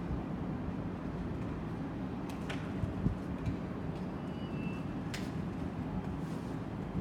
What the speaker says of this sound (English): As that freight train carries on to its destination